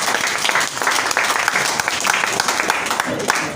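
Church congregation at a Sunday service clapping hands, dense rapid applause-like clapping filling the whole stretch, with voices mixed in beneath it.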